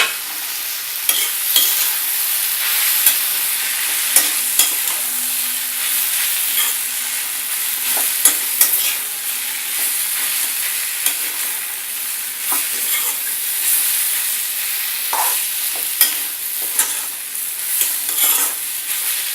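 Torn chapati pieces sauté with chili powder in a pan, a bright continuous hiss of frying broken by frequent scraping stirs and small knocks, close and fairly loud with no voices.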